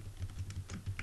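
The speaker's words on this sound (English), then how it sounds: "Type in the service name, for example, airport" Typing on a computer keyboard while setting up a WordPress hotel booking form: quick, light key taps in an uneven rhythm, close and fairly quiet, over a low hum, with no voice during it.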